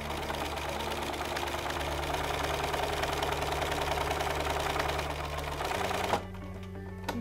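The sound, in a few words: sewing machine stitching fabric above a pleat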